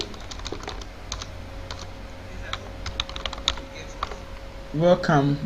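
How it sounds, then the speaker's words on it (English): Quick, light keystrokes on a computer keyboard while entering details with a text tool in Photoshop, clicking in scattered bursts at close range before a short voice breaks in at the end. "select the text tool again and click here and start typing the details that I'm giving"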